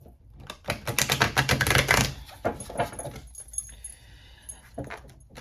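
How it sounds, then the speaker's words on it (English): Rapid riffling clatter of cards being shuffled, several bursts of crisp fluttering snaps close by, with quieter handling rustles between them. "let's go ahead and give it a little extra shuffle, shall we?"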